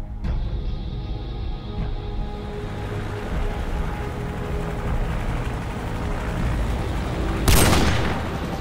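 A sniper rifle shot in the video game Call of Duty 4, one sharp loud crack late in the clip over a continuous low rumble of wind and distant engine noise.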